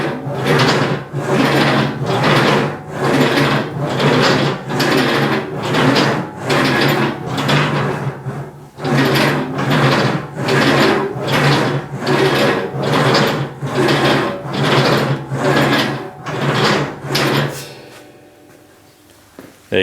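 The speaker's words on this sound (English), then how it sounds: "And there's our piece of aluminium after literally 2 minutes in the English wheel." An aluminium sheet being shaped for a motorbike fuel tank rolls back and forth through an English wheel in about twenty regular rumbling passes, each a loud grinding swell, before the rolling stops.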